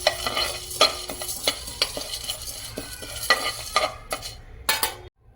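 Whole spices for mutton pepper fry are dry-roasted in a pan without oil, a spoon scraping and tossing them in quick rhythmic strokes with a light sizzle, close and clear, stopping abruptly at the end.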